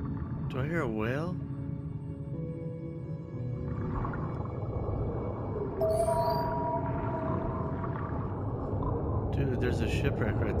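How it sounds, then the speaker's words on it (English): Whale calls in the Under the Waves video game, several long rising and falling moans and tonal cries over a dense low underwater rumble, loud and near, with a person talking at times. "Do I hear a whale?"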